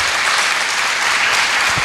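Dense, steady applause from a large audience at a speech event in Tatanagar, a loud, continuous wash of many hands clapping with no pauses.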